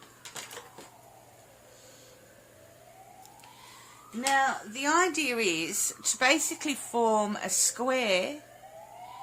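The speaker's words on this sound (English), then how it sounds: "excuse the sirens there in the background, something's obviously going on" A siren wails in the distance, rising and falling faintly behind a person talking close by.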